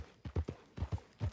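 Horse hooves clip-clop in Red Dead Redemption 2, a steady, close-up trot of two- and three-beat clusters over a brief stretch, with no voices.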